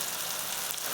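Spices sizzle in hot oil for a potato curry, a steady, even crackle of frying heard up close with no voices over it.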